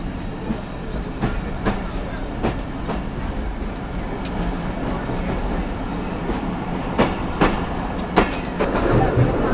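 A packed Rajshahi to Rohanpur commuter train rolls along with a steady rumble and regular clickety-clack wheel beats, heard from inside a crowded carriage.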